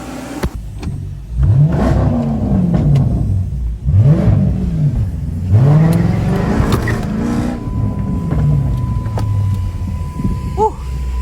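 A car accelerates hard on a point-of-view drive, its engine revving up and dropping back in several rising sweeps, close and loud inside the cabin with no talking.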